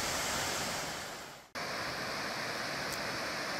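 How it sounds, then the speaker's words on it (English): Steady roar of a waterfall just off a forest road, a dense rushing wash of falling water filling the whole clip, briefly cut off midway before resuming at full strength, with no voices. "further exploration on Forest Road 23 has brought us by this beautiful waterfall just off the road"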